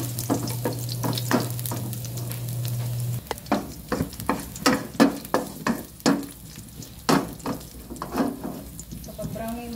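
Chicken feet, already fried and about one kilo, sautéing with browned garlic in a pan, giving a close, steady sizzle broken by repeated clatters of stirring and tossing.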